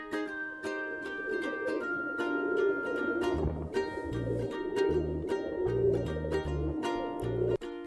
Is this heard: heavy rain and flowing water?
no